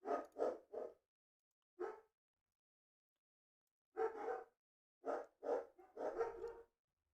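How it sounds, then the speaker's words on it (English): Dogs bark in short clusters of two or three sharp woofs separated by silent gaps, fairly faint and somewhat distant, with no talking. "Let me see if the dogs stop barking."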